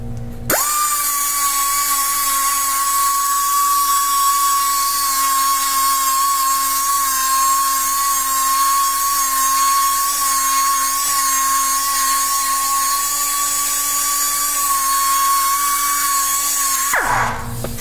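Handheld rotary tool grinding and smoothing nicks on an engine crankshaft, a steady high-pitched whine held for about sixteen seconds between abrupt start and stop, close and loud with no talk.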